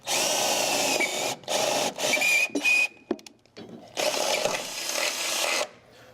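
A power drill with a 3/8 bit bores a hole during a motorhome TV installation, whirring loudly in several bursts that start, stop and restart, close to the microphone with no talk.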